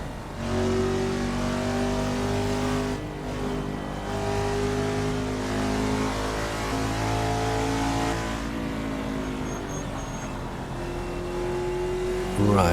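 Hyperion 2020 stock car engine in Assetto Corsa at California Raceway, a loud sustained roar with rising and falling revs as it pulls through gears, steady and close throughout with brief dips between shifts.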